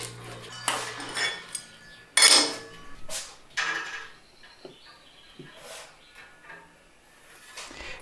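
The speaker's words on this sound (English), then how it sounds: "Undoing bandsaw blades." Coiled steel bandsaw blade being unwound, giving a few sharp metallic snaps and clinks with quieter rattling and jingling in between, close by in a quiet workshop.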